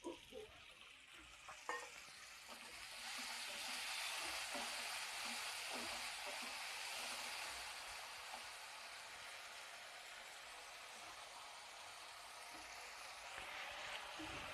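Water poured into a hot pan while cooking, giving a steady broad sizzle that rises after a few seconds and holds evenly at moderate volume, with no talk.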